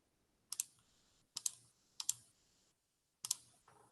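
Four sharp double clicks of a computer mouse on a quiet desk, spaced about a second apart, crisp and close with silence between them.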